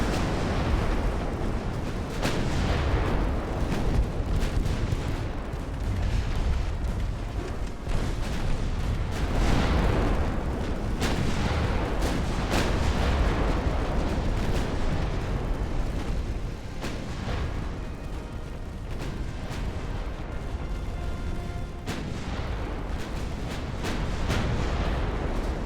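Naval artillery fire in Ultimate Admiral: Dreadnoughts, an 1890s-hull battleship engagement: a dense, continuous barrage of booming cannon blasts and rumbling impacts, loud and sustained with little letup.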